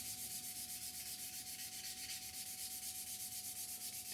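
Fast, regular back-and-forth sanding strokes across the plastic side of an Academy F-16I Sufa model aircraft kit, working through grits to remove scratches; close, steady scratchy rubbing with even rhythm and no speech.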